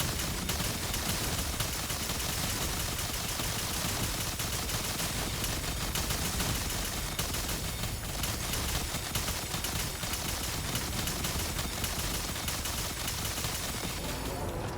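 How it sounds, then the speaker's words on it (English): Sustained rapid automatic gunfire from a firearm shooting a boss in the video game The First Descendant forms a dense, continuous, loud barrage for the whole stretch with no pauses. "And then you just start shooting the boss."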